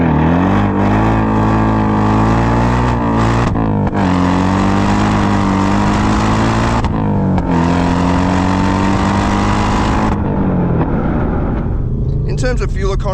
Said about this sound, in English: Give it a rev as you're changing down.